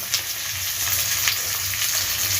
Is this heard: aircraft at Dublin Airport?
no